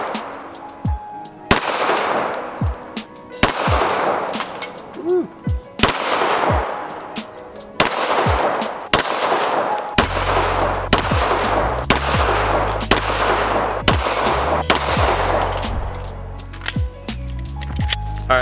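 A Smith & Wesson M&P full-size 9mm pistol firing on iron sights, with loud, sharp single shots at irregular intervals, about a dozen reports, with a low hum entering midway.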